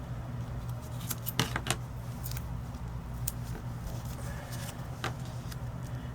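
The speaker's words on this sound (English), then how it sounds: "Let me get my scissors out." Scissors snip foam tape for a scrapbook page. A handful of short, sharp cuts come in a quick cluster, then a few more are spaced apart. They are close and fairly faint over a low background hum.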